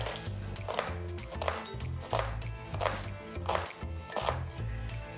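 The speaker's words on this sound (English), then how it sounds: "I'm just cutting towards the root end and then coming back with my knife and making up and down cuts." A knife chops a vegetable on a cutting board in quick, regular strokes, roughly seven or eight crisp, close thuds with a brief scrape after each, and no talking.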